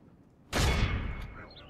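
A volley from crossbow units in the Third Age Total War battle game, one sudden loud burst of launching and impact noise that swells and then fades slowly.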